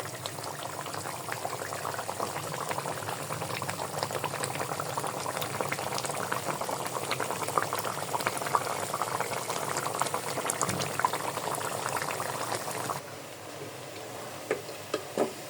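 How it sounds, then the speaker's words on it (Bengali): Pabda fish curry with mustard boils in a pot, a steady close-up bubbling and gurgling that runs throughout and turns a little quieter near the end, with no speech. "ইয়ে পাবদা মাছ টকবক টকবক করে বলক আসতেছে"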